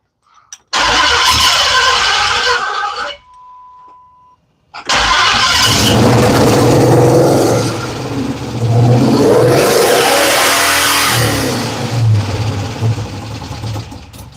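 A Dodge Hemi 5.7L V8 with Comp Cams, misfiring and idling rough, starts with a bark, cuts out briefly, then restarts into loud choppy uneven revving with stumbling pulses, close up.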